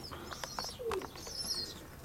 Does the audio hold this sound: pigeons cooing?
yes